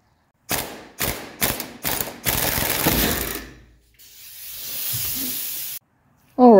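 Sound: ratchet removing shock absorber nuts on a Mercedes 300SD

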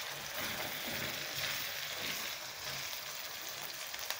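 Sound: chana daal frying in pan

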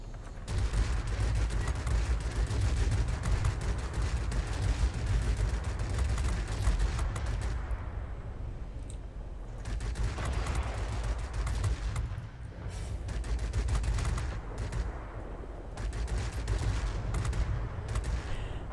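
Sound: aircraft guns firing in World of Warplanes video game

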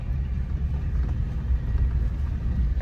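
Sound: car jolting along a bumpy road

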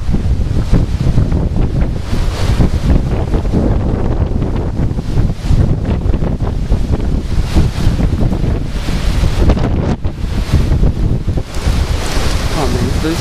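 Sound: strong wind during a supercell thunderstorm

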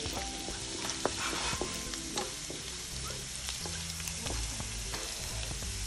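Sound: ginger and cashews sautéing in oil

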